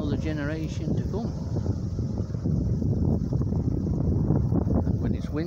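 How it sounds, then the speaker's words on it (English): Wind gusting steadily through woodland on a blustery day, a constant broad rush with rustling close to the microphone. A brief tonal sound near the start could be a voice or bird, and it is partly masked. "And when it's windy, as it is today"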